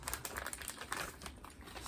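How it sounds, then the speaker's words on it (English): Crinkly plastic snack packaging rustles and crackles close up as it is cut open with scissors, a continuous busy run of sharp little crunches and snips. "y'all might think you're weirdo using scissors to cut open packages"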